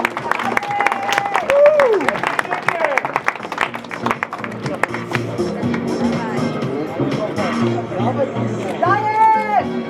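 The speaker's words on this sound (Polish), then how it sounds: "zróbcie jakiś doping, adrenalinę udajcie, jakieś brawa!" Crowd at a Polish championship dumbbell press event in Kielce claps and cheers during a 102 kg lift, with steady babble and shouts rising and falling under loud, close voices calling out throughout.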